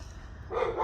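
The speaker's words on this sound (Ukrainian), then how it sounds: "Собака." A dog barks briefly and moderately loud, in a single burst rising out of low background noise.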